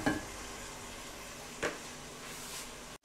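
Meat sizzling in hot oil as salt and ginger garlic paste are stirred in, with a steady frying hiss and a couple of soft stirring scrapes, close and without talk.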